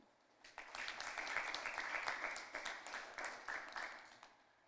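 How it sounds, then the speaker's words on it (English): A small audience at a school debate claps for a few seconds, the applause swelling quickly, holding, then thinning out into scattered claps. "Give a round of applause for Abigail Rojas from the Princess Margaret"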